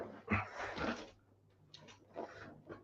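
A dog whimpers nearby in a few soft, breathy whines and snuffles, fairly quiet and broken by short pauses, with no talking over it.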